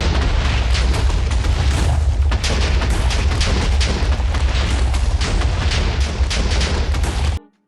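A loud, sustained blast of TNT explosions in Minecraft rumbles and crackles for about seven seconds of dense booming, then cuts off abruptly, with no voices.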